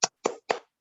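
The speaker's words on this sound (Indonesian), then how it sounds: "Kita tepuk salut dulu untuk Pak Kadis Dikpora luar biasa ini" A group performs a 'tepuk salut' clap routine during an online teachers' webinar: three separate bursts of clapping about a quarter second apart, each a short sharp smack that decays quickly, followed by silence.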